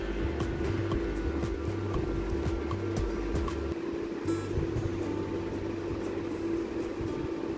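Steady mechanical whirring hum of a sewing machine running continuously while stitching a Patiala salwar, close and constant without pauses, no voices.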